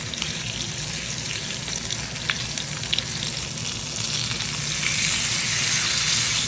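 Meat sizzles steadily on a Luxor ceramic hob after being flipped, a continuous close crackling hiss that swells slightly toward the end, with occasional sharp pops.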